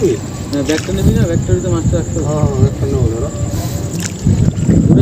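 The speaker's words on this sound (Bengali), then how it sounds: "এখন নৌকাটা চালিয়ে চালিয়ে বাড়ির পথে আসা হচ্ছে" A small wooden fishing boat is rowed home on a tidal river near Shyamnagar, soft watery strokes and creaks under a steady breeze, while people talk loudly nearby throughout.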